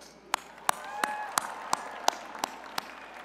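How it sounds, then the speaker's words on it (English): At a spring 2018 commencement, a crowd claps in a steady rhythm, sharp single claps standing out at regular intervals over a quieter, diffuse bed of applause from the audience. "Give yourself a round of applause"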